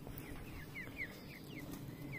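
Brahma hens give soft, repeated clucks and short calls at a moderate distance over a steady low background hum, with no talking.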